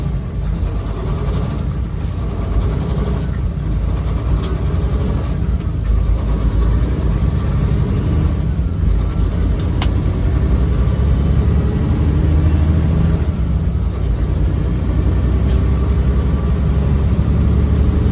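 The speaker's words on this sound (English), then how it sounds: "Both my earbuds in the ear and I can still hear the engine." A semi truck's diesel engine runs steadily from inside the cab during a shuttle run, a continuous low rumble with no talk over it.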